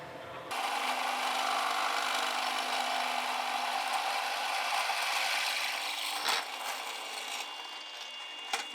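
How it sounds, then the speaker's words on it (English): A drill bores a 25/64-inch hole with a larger bit, a steady loud grinding drone starting abruptly and running continuously close by, with a brief catch near the end. "I'm going to go to 25/64 to be a little bit bigger"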